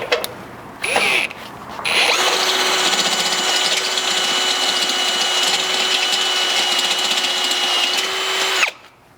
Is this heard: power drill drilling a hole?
yes